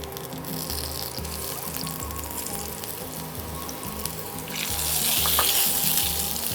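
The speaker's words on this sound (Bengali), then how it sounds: "উচ্ছেটা ভাজবো।" Bitter gourd fries in a pan for a Bengali bottle-gourd shukto, giving a steady close sizzle that swells louder and brighter toward the end, with no talking.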